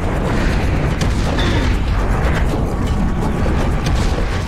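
A portable cannon fires in Serious Sam 3, giving loud, heavy booms that roll into a steady roar of combat noise.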